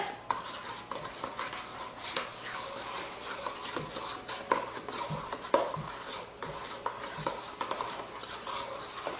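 A young child stirs a mixture of crushed Oreo cookies and lemon juice in a bowl, giving a steady run of soft scraping and clinking of utensil against the dish, close and fairly quiet with no talk.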